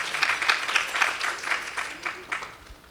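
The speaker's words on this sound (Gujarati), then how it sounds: "ખરેખર એકવાર તાળીઓથી એમને વધાવો." An audience at a Saturday devotional sabha claps together in a warm, steady burst, many hands close together, holding at an even level and easing off slightly near the end.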